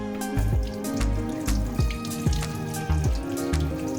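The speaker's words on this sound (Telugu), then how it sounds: "వాటర్ మీకు ఇలా క్లియర్గా రన్ అవ్వాలి ఈ హోల్స్లోంచి" Water streams through freshly cleaned spray arm holes of a Bosch dishwasher, a steady splashing patter with repeated drip-like knocks, close and continuous with no talk.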